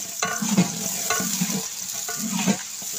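Beef fat frying in a pan, a bright sizzle cut by repeated scraping strokes of a spatula, each stroke a short rhythmic burst, with no voices.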